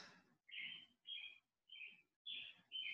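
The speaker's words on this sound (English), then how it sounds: "And hear the birds." Birds chirp outdoors in a series of five or six short, bright calls separated by brief pauses. The calls sound fairly close and clear against quiet surroundings.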